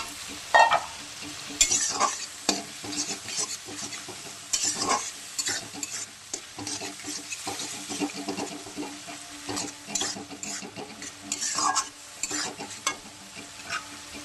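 Potatoes frying in a pan with spice powder, stirred with a spoon: a steady sizzle under repeated scraping strokes, close and moderately loud, no voices.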